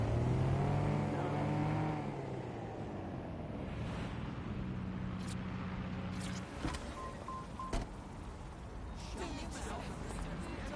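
Car driven at speed in Watch Dogs: Legion, an engine drone rising and falling over about ten seconds with road rush and a few sharp clunks, with game noise and faint talk mixed in.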